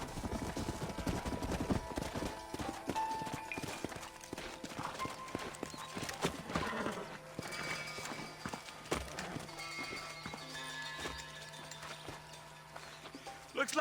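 Horses' hooves clip-clop steadily at close range in the Red Dead Redemption video game, the rhythmic beats running through the whole stretch over an ambient game soundscape with occasional other noises.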